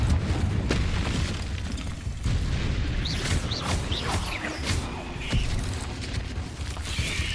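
Confringo spell explosions in Hogwarts Legacy: several muffled booms and bursts scattered over a rumbling background, with short sharp pops and whooshing accents in between.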